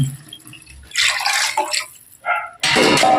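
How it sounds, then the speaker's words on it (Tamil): Tamarind water is poured into a cooking pot while a tamarind kuzhambu with dumplings is made, heard as splashy bursts of liquid that stop and start, ending in a louder, sustained pour. "புளி தண்ணி ஊற்றிக்கிறேன்"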